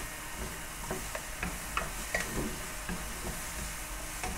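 Vegetables fry in a pan for egg hakka noodles, giving a steady, even sizzle with a few faint stirring clicks and scrapes that stand out now and then. Nobody speaks.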